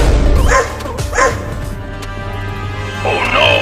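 Cartoon dog barking in short yapping bursts near the start and again near the end, loud and close, with a comedic Hindi animated scene's voices around it.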